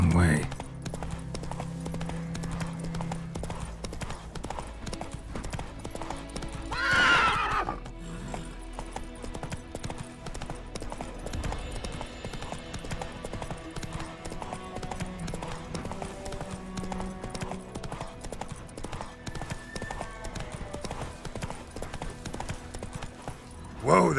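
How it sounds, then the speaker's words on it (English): Horse in The Witcher 3 video game galloping with steady rhythmic hoofbeats, breaking into one loud neigh partway through, then continuing with clip-clop under game sounds and a voice talking. "Whoa there, Roach"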